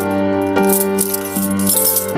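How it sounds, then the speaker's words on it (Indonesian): Bunch of keys jangling and rattling at a door, close and fairly loud, with repeated metallic clinks in a continuous shaking rhythm. "Dan suara gemerincing kunci itu pasti Pak Narko, tukang jaga kos."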